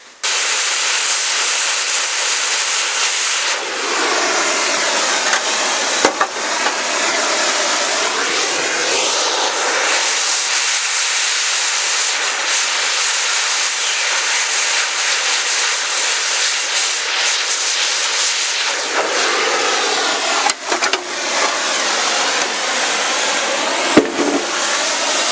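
Grinder cutting rusted metal on a 1995 Ford F350, a loud continuous high-pitched whine and hiss that rises and falls as the cut loads and eases, running almost unbroken for about 25 seconds.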